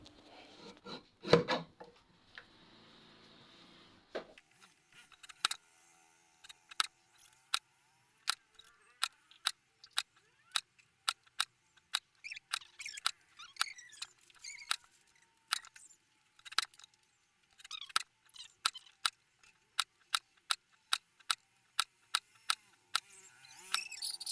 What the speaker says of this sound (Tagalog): Naka-cut out na rin yun gamit yung paper cutter.